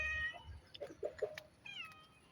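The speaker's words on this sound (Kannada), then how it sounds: "ಜೊತೆ ಒಂದು ಬೆಕ್ಕಿನ ಮರಿ," A kitten in a backyard with chickens meows in a quick run of three short, close mews, then a longer drawn-out cry, with no talking.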